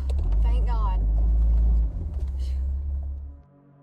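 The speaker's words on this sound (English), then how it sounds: "the two girls manage to drive off into the night and make it out of the area" A car engine rumbles loudly up close at night as the vehicle pulls away, a heavy low drone that fades and drops off toward the end, with frightened voices heard over it.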